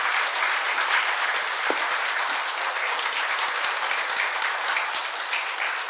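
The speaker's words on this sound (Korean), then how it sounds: "따뜻한 환영의 박수 부탁드립니다." Warm welcoming applause for the Minister of Employment and Labor at a healthcare industry labor-management meeting, steady dense clapping from a seated audience, loud and even throughout.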